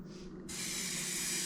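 A shaken can of Rust-Oleum outdoor fabric paint sprays a steady, close hissing jet that begins abruptly after a brief quiet moment and continues unbroken.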